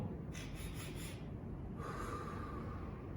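A person demonstrates an inhalation breathing exercise with quick sniffing breaths drawn through the nose: a short run of close, airy bursts, then a quieter, rougher breath at the end.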